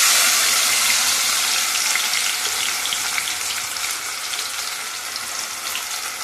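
Finely chopped onion and tomato frying for keema, a loud continuous hissing sizzle that holds steady and eases slightly over several seconds.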